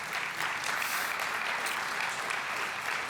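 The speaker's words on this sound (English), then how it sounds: "can we give them all a round of applause?" A live audience at an airline pitch contest claps steadily, with dense, even applause filling the room throughout.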